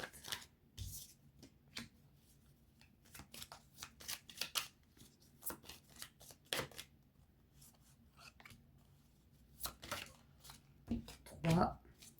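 Tarot cards handled and drawn from a deck in a quiet room, giving a run of soft, crisp slaps, flicks and shuffling rustles at close range, spaced irregularly, with a few louder snaps near the end.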